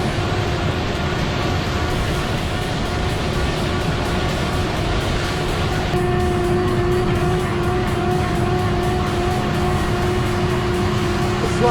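A Fendt IDEAL 10T combine harvester's engine labouring under heavy load in a corn field, a loud continuous drone with steady humming tones and no break throughout.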